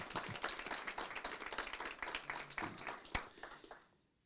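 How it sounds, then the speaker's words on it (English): A sheriff's deputy is honored at a city council meeting with a round of applause from the room, a moderate scattering of clapping hands that thins and ends with a final sharp clap before quiet. "Everyone, let's give him a big round of applause"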